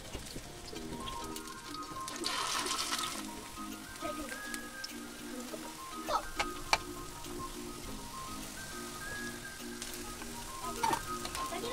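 Banana flower pakoras fry in a pan with a continuous soft sizzle, punctuated by occasional louder crackles and pops, alongside a faint steady hum in the background.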